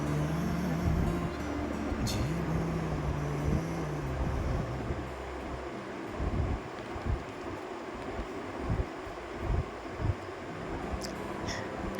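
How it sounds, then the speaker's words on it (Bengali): A train rolls past a railway crossing on a rainy day, its low steady rumble close and heavy for several seconds before giving way to gusty wind noise and scattered thumps. "ট্রেন আসছে একটা।"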